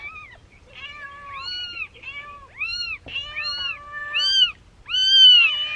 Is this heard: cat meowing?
yes